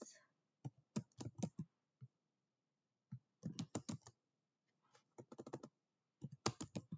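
Python code is typed on a computer keyboard in short bursts of rapid, crisp key clicks separated by pauses of silence, close and fairly quiet.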